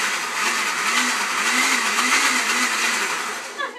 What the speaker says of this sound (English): the blender can kind of shoot the stuff up on the sides